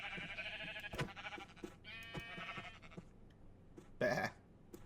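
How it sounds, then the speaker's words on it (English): Minecraft sheep bleat in a game farm while being sheared, several nasal bleats spread across the moment, the loudest near the end, with soft clicks and game sounds between them. "It shears sheep."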